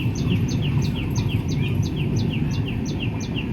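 A small bird near a railway line repeats a quick, bright two-part chirp about every quarter second, steady and fairly close, over a loud low rumble of background noise.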